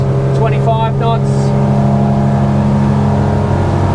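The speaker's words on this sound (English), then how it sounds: "The engines are working hard." The engines of a Monterey 298 boat run at full throttle, a loud, steady droning roar that holds without a break, with a voice speaking briefly over it near the start.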